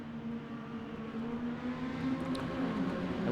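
Race cars circling the Milwaukee Mile oval at a mini-series event, a steady blended engine drone with faint whine, heard from a distance, holding constant without distinct passes.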